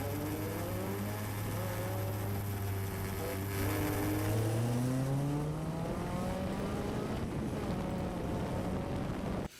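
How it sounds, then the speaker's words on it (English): A race car engine that sounds like a Honda roars steadily, heard onboard on track, its pitch climbing and sweeping as it revs, with wind rushing across the microphone throughout. "Engine sounds like a Honda."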